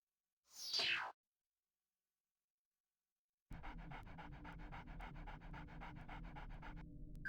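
Panting of a dog in the Nintendo 64 game Jet Force Gemini, a short burst of quick breathy puffs, then silence, followed by steady looping game music and effects to the end.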